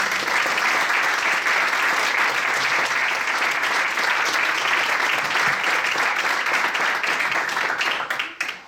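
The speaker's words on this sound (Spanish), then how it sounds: "Podemos aplaudir la intervención." Sustained audience applause after a talk, loud and steady for the whole stretch, tapering slightly at the very end.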